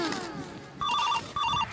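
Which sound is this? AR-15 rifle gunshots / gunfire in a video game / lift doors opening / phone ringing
phone ringing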